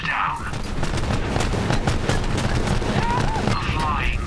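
Dense, continuous gunfire rattles without pause as flying tanks are shot at in Borderlands 3, a loud wash of rapid shots and booms with a few short whooshing electronic effects near the end.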